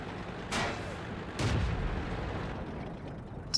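Artillery fire in the tank game World of Tanks: two distant, muffled booms about a second apart, each followed by a low rumbling tail, with the game's ambient background continuing under them.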